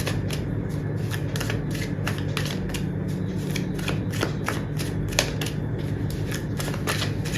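Tarot cards shuffled by hand in quick, repeated riffling bursts: crisp papery flutters and taps in a steady rhythm, close and fairly quiet, with no voices.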